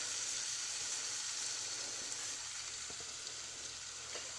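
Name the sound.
big piece of pot roast meat searing in olive oil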